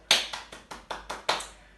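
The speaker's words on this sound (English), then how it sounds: "Give yourself a round of applause." Six quick, sharp claps from a small group during an exercise class, evenly spaced with a slightly louder final burst, each ringing briefly, no voices.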